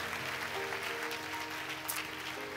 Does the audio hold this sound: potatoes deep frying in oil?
no